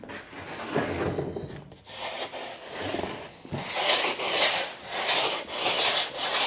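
Hand sanding along the edge of a carbon fiber front splitter, steady back-and-forth rasping strokes, close and fairly loud, with a brief pause near the middle.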